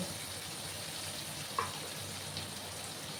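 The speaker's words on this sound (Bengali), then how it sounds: "একটু লাল লাল করে পেঁয়াজগুলোকে আমি ভেজে নেব।" Onions sizzling in a pan, a soft continuous frying hiss with a faint clink partway through, quiet and steady.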